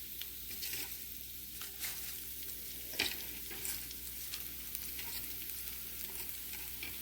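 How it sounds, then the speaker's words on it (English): Spinach leaves wilting in a pan with fragrant garlic, a soft continuous sizzle broken by occasional stirring scrapes and one sharper clack midway, steady and moderately quiet, no talking. "Let's go ahead and get those spinach leaves into our pan."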